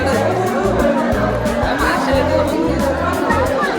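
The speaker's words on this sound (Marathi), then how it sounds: "भाविकांची खूप गर्दी आहे इथे" Dense crowd of devotees filling the Ekvira Devi temple ground during a village palanquin procession, a steady loud hubbub of overlapping chatter with occasional laughter and low rumbling noise throughout.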